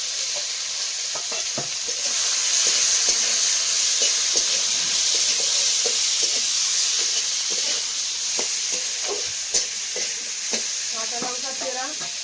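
Chopped onion, whole garlic cloves and bay leaf sizzle steadily in a little oil in a wok, with close, continuous frying crackle and occasional stirring scrapes throughout.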